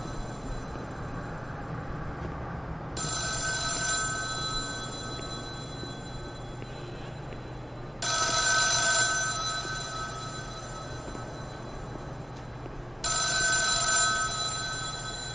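A telephone rings in the psychiatric-hospital horror game The Town of Light, three loud electronic ring bursts spaced several seconds apart over a steady low room hum, with no talking.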